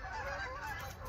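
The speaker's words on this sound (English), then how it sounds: "Here are the geese." A flock of geese honk in a dense, overlapping chorus, steady and somewhat distant.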